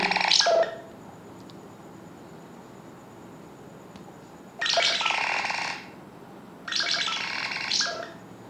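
Scribble ringtone from a Nothing Phone 1 plays in three short bursts of bright scratchy tones separated by quiet gaps, close and clear with no talking.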